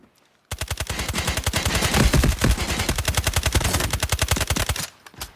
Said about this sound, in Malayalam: ഓ, നല്ല വെടികളുണ്ടാ.